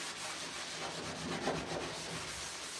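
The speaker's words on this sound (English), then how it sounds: "My aim is to just get all of the staining off first, and then I go back in with a fresh piece of Scotch-Brite" A Scotch-Brite pad scrubs old paint stains off an aged, rusty painted surface, a continuous dry rasping rub that swells slightly midway, close and moderately quiet.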